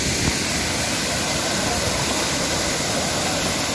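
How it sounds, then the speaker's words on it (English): Nakhal waterfall at Kavant pours with a constant broadband rushing roar of falling water, steady and close, filling the whole few seconds without pause. "Beautiful waterfall."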